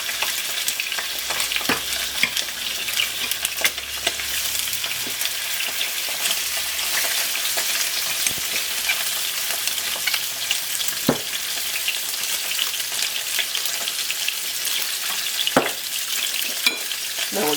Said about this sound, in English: Now we're going to brown it. It will take about 4 minutes to the side because our pan is hot